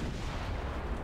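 Naval gunfire in the warship game Ultimate Admiral Dreadnoughts, heavy guns booming in a dense, continuous low rumble of overlapping shots and impacts, steady and loud throughout without clear gaps.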